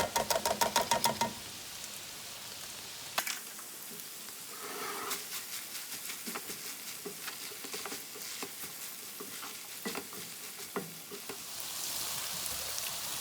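Sausage and a tablespoon of minced garlic fry in a pan for spaghetti, giving a steady soft sizzle with scattered crackles and pops. A few clatters of a utensil come early, and no one talks over it.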